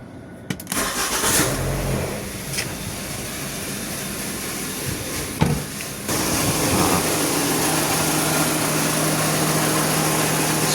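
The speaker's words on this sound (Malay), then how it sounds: "Okey, kita nak start enjin." A Proton Persona VVT car engine cranks and catches, then settles into a loud, steady idle with a slight shake, a broad continuous rumble that steps up partway through and carries on alone.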